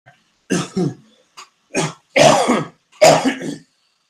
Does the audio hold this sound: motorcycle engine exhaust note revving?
no